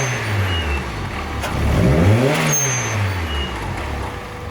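A Honda Civic D16 with an eBay turbo setup revs up to about 2,500 RPM and then falls back. The engine note rises, peaks around the middle of the rev and then settles again, heard up close and fairly loud.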